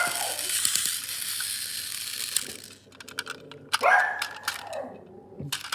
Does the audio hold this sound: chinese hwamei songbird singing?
no